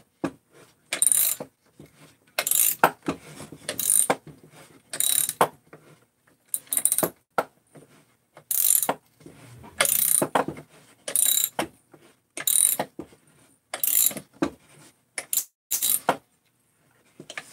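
A nut is turned down on a chainsaw crankcase assembly with a ratchet, producing repeated short clicking bursts in a steady rhythm, close and fairly crisp, with brief pauses between strokes.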